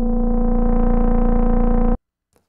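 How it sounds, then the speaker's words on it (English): A VCV Rack software modular synth patch with a sine wave modulating the filter frequency of a VCO tone: a loud, buzzy sustained note with a steady rhythmic wobble, cutting off abruptly after two seconds. "the saw wave, or the sine wave is modulating the frequency"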